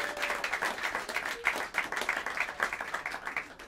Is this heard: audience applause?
yes